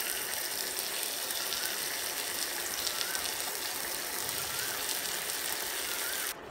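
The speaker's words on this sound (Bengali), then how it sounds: "চুলার আঁচ মাঝারিতে রেখে চিকেন পিসগুলো ভেজে নেব।" Marinated chicken pieces for restaurant-style butter chicken fry in hot oil over medium heat, giving a close, steady, dense sizzle with fine crackles that runs unbroken for several seconds before cutting off abruptly, with no talking.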